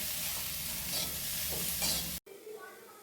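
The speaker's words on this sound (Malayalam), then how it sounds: "ഉപ്പ് നമുക്ക് നിളകിട്ട് കൊടുക്കാം" Salt is stirred by hand into a Kerala-style mustard mango pickle, giving a close, steady scraping and wet sizzling churn for about two seconds before cutting off abruptly to near quiet.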